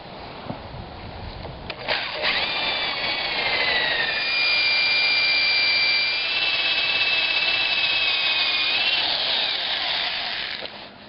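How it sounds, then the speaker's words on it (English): A power drill with a hole saw whines at high pitch, grinding steadily through a wooden door for several seconds before winding down. "What I'm going to do is saw halfway through the door on this side"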